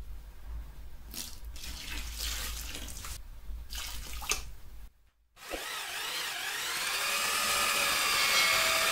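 Water is poured into an art concrete mix, heard as a splashing stream in bursts, followed after a brief pause by a power mixer whirring loudly and steadily as it blends the sand-concrete.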